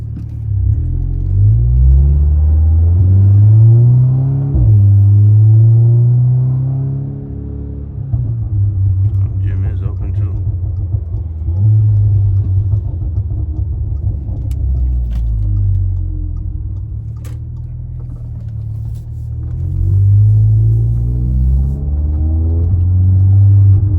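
Heavy low exhaust drone and engine rumble inside a Cadillac CTS with a turbo inlet and loud exhaust, swelling under throttle and easing off, with faint clicks and light cabin noises over the steady roar.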